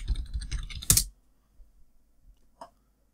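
Computer keyboard typing, a fast burst of clattering keystrokes up close that stops abruptly, followed by near silence broken by a few faint taps and one last sharp key click.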